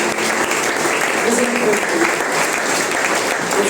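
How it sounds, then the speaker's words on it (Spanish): Church congregation applauding loudly and steadily throughout, a dense wash of clapping with some voices mixed in. "denle un aplauso fuerte a Dios"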